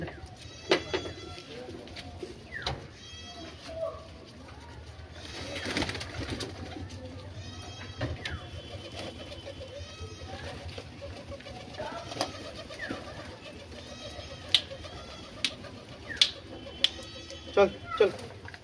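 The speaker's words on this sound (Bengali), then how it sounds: "একটা পায়রা ডিম আছে, ও ঘরের ভেতর ঢুকতে চাইছে," Pigeons coo repeatedly in a home loft, soft low calls running steadily throughout with sharper bird calls and clucks growing more frequent toward the end.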